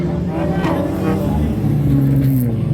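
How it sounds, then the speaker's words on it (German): Youth-class autocross race cars overtake on both sides at Eppe, engines droning and rising together under a commentator's voice. "Jetzt überholen sie links und rechts."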